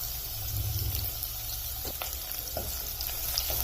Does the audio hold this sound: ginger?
yes